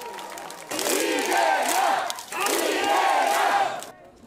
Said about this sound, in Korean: 등산복을 입은 이재명 의원이 나타나자 지지자들의 함성이 쏟아집니다